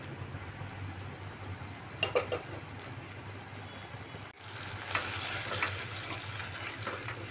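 Ground melon seed and peanut masala paste frying in a pan, a low steady sizzle with a few quick scraping stirs, then a brighter, louder hiss after a brief break partway through.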